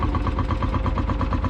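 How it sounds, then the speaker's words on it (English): Field Marshall vintage tractor idling at the Kirriemuir Show in Scotland, a loud, close, lumpy single-cylinder thump with a steady rapid pulse and no talk. "One of the best sounding tractors at the show"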